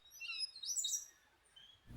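A brown jay in Costa Rica gives a few sharp, high calls over about a second, fairly faint, against a quiet outdoor background.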